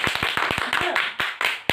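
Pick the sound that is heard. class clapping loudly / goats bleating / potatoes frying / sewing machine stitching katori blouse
class clapping loudly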